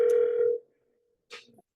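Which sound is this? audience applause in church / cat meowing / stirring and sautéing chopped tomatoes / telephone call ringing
telephone call ringing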